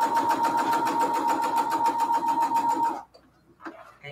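Sewing machine stitching quilted cathedral window pillow cases, a fast steady mechanical whir with rapid needle rhythm running loud and close for about three seconds before stopping, leaving faint room noise.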